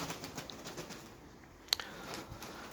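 Released pigeons flutter and flap their wings in brief, soft bursts outdoors, with one sharp click partway through, and no one speaking.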